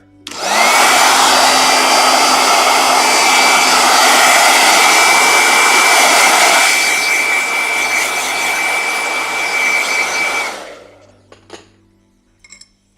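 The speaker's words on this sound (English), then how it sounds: "Blow dryer." A handheld blow dryer roars with a steady, loud, full-bodied whoosh for about ten seconds, then shuts off, leaving a few faint clicks and taps.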